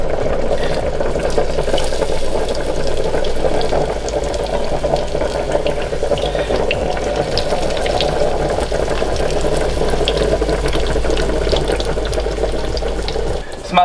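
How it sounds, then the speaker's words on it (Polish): Steady, dense sizzling and crackling of fish frying in hot oil, continuous and fairly loud throughout with no pauses. "Tak oto przygotowaną rybę rzucamy na rozgrzany olej."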